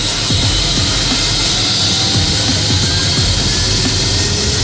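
Bell 407 helicopter turbine engine with FADEC spooling up to idle at about 63% NG, a loud, steady turbine whine with a high tonal hiss over a low, throbbing rotor rumble, continuous and close.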